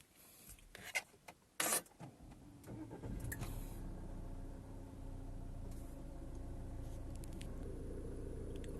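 A 2020 Jeep Compass diesel automatic 4x4 started with its start-stop button: a few clicks and thumps, a brief cranking whir, then the engine catches and settles into a steady low diesel idle, close and without talk.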